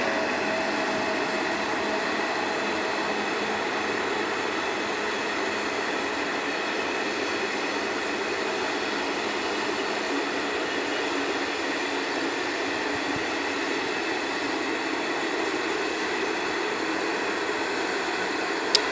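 An old express train with sleeping cars, 1950s-60s stock, rumbles steadily past at close range in Solna, Sweden, a constant rolling roar with faint wheel noise throughout.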